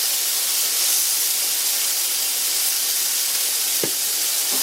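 Hamburger patties sizzling in a cast iron pan, a steady, loud frying hiss that runs throughout, with one brief tap near the end.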